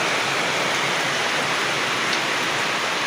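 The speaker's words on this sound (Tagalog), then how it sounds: "lakas ng unos. Yung hangin at saka ulan." Heavy rain pouring during a storm with wind, a dense, steady hiss of downpour filling the whole moment at constant loudness, no voices.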